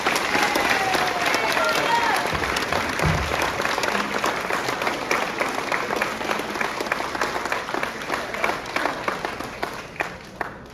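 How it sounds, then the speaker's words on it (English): An audience applauds at an elementary school sixth grade promotion ceremony, sustained clapping from a large crowd that gradually thins toward the end. "So please, round of applause for Abdul Wahidi."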